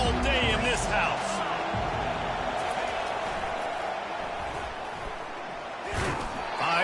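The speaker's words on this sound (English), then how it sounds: "This crowd trying to show them what it's going to be like all day in this house." A stadium crowd at a college football game roars as a broad, sustained wall of noise beneath a commentator's voice, swelling at the start and again near the end.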